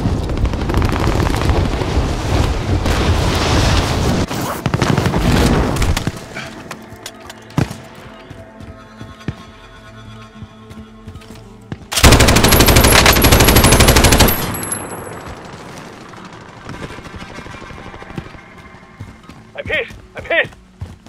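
Call of Duty: Warzone combat: heavy automatic gunfire and blasts come in loud bursts, with a long dense volley midway, set against quieter stretches of scattered shots and in-game radio voices.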